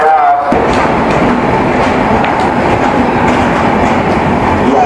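The Patna Howrah Janshatabdi Express rolls along at speed, a loud continuous rumble of wheels and carriages with faint rhythmic clacking that runs steadily throughout.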